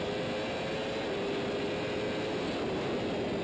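Steady onboard roar of a motorcycle engine on the start-finish straight at Cadwell Park as the rider shifts up toward fifth gear, a continuous dense drone with a constant tone, loud and close throughout without talk.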